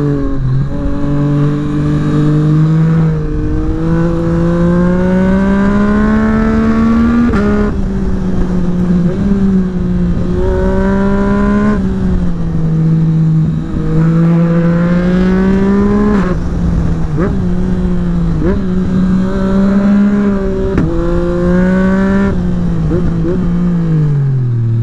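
A 2024 Yamaha MT-09 SP motorcycle fitted with an Akrapovic exhaust accelerates hard along a winding road with hairpins. Its loud, close engine note climbs in pitch through repeated surges, drops back between gears, and rises again throughout.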